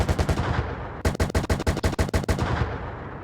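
Rapid machine gun fire from a BMP-2 infantry fighting vehicle in the PC game Gunner Heat: a tight burst of about ten sharp, evenly spaced shots, loud and close, with quieter rattling fire before and after.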